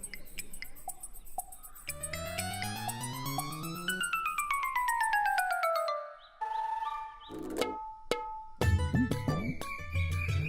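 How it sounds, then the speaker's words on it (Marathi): Mobile phone ringtone for an incoming call in a Marathi TV serial scene, a tonal electronic melody with rising and falling note runs that plays steadily and fairly loud, turning choppier near the end. "फोन आलाय. आलोच."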